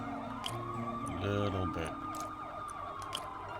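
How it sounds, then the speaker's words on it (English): Police sirens wailing in the city streets of Marvel's Spider-Man video game, a sweeping tone under game music and effects, with a brief spoken remark. "the police sirens are kind of driving me nuts."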